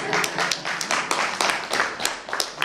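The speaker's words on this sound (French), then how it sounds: "Et on peut vous applaudir." Applause in a municipal council meeting in Louviers, France, a small room of people clapping in a loose, uneven rhythm of distinct sharp claps, fairly close and moderately loud, with no voices over it.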